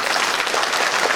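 Audience at a temple Brahmotsavam festival in Armoor clapping together, a dense, steady burst of applause filling the whole moment.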